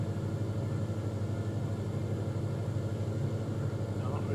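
A single-engine aircraft droning steadily in Microsoft Flight Simulator 2020 over Queenstown, New Zealand, a continuous low, even engine rumble with a voice talking over it.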